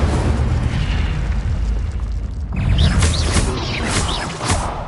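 An Incendio fire spell blasting in a video game, a loud roaring whoosh and burst of flame, then a crackling surge that fades out.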